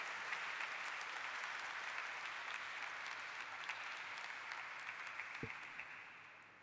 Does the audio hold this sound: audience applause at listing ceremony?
yes